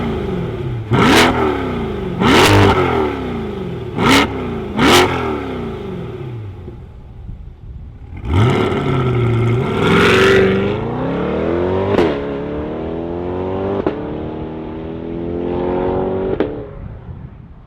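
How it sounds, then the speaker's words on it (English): A 2026 Chevrolet C8 Corvette Stingray Z51, mid-engine, is started and revved: several sharp, loud blips up front, then a sustained rising rev that climbs, falls and swells again, close and alone without talk. "I think this Stingray is ready. Let's fire it up and hear what it sounds like."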